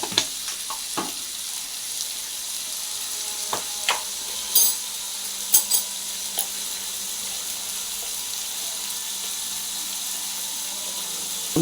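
Washed, chopped eggplant fries in a pan with a steady, close sizzling hiss, punctuated by a few light clicks and taps of stirring, and no voices.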